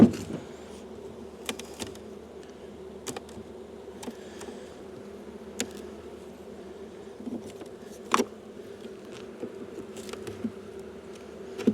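Honey bees humming steadily inside an opened hive full of brood, a low continuous drone with occasional soft clicks and knocks from handling the frames, close and moderately quiet.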